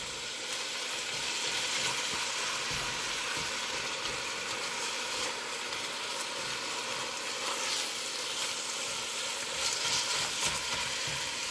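Ground chuck with peppers and onions cooking in olive oil, a steady close sizzle and crackle of frying that holds at an even level throughout with no talking.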